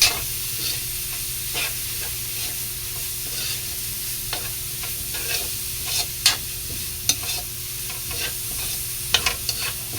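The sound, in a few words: stirring pork loin for batchoy in a pan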